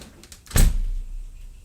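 A door shuts once with a sudden sharp thud, followed by a short fading low rumble. Faint light knocks come just before it, and no one speaks.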